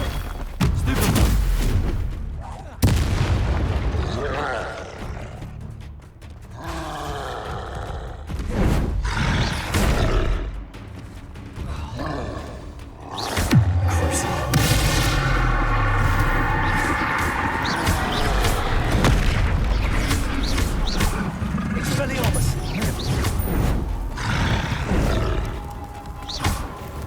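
Bombarda spell explosions in the Hogwarts Legacy video game, giving heavy booms and deep thuds that burst repeatedly through a dense, loud soundscape of roaring effects.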